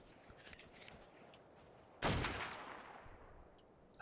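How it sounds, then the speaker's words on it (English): Gunfire in ARK: Survival Evolved during a PvP arena round, with a few faint distant shots early, then one loud sharp blast that rings out and slowly decays, and another shot cutting in at the end. "Shooting."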